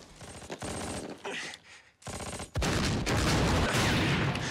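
Machine gun fire in a Band of Brothers episode, "Day of Days": loud, rapid bursts broken by brief pauses, swelling into sustained heavy firing with explosions toward the end.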